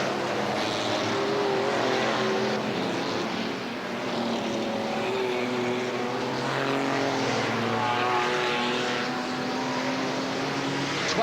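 Super rod race cars racing on an oval track at Ipswich in 1980, a continuous loud roar of several engines droning together, with pitch shifting as cars pass and no break across the stretch.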